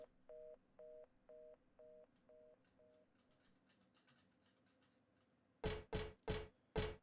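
A telephone in the video game Silent Hill 3 gives a run of evenly spaced electronic beeps that fade out. Near the end, four loud, heavy clunks follow in quick succession as the handset is put down.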